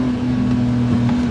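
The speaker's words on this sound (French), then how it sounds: "6000 tours, le moteur qui monte en haut." A modified BMW E30 engine revs hard toward 6000 rpm during a burnout, a steady loud droning roar that holds high and constant.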